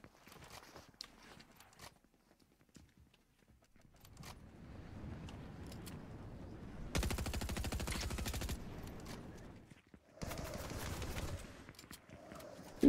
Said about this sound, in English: Who is shooting at me, please?